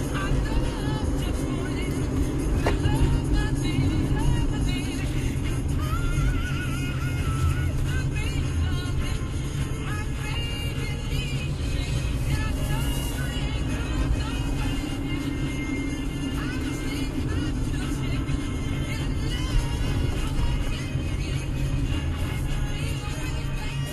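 A car rolls along the roadways of the Barton distillery grounds in Bardstown, Kentucky, its steady engine and road rumble continuous and close throughout, with no voices.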